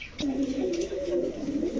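A pigeon coos close by, a low, drawn-out warbling call that rises and falls over a quiet background.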